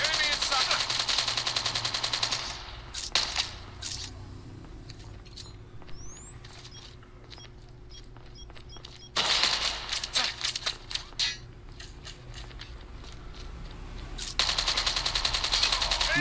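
Automatic gunfire from an M4 rifle in the mobile game Call of Duty Mobile, heard as loud sustained bursts at the start, middle and end, with quieter game sounds between them.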